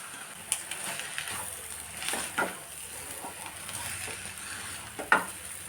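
Leftover rice being stirred into egg masala in a frying pan, with a soft, constant sizzle broken by occasional spoon scrapes and knocks against the pan, close and fairly quiet.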